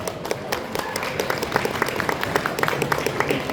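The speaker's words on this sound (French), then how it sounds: "on va très fortement applaudir Angel Swing" An audience claps steadily for Angel Swing, a roleplay contest participant at a convention award ceremony, with dense continuous applause.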